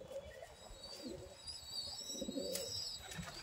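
Andhra pigeons cooing at a pigeon seller's loft, soft repeated throaty coos in short bursts, fairly faint against quiet background with a few higher chirps and no talk.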